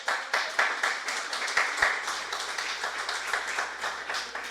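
A church congregation applauds during a worship service, a moderate wash of many hands clapping at a steady pace, heard from a middle distance in a reverberant room.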